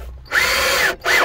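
Power drill driving a screw into a Renault Kangoo van, whirring steadily for about half a second, pausing briefly, then spinning up again, loud and close with no talk.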